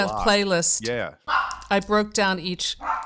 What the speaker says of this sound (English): I'm sorry about my dog. She's annoying.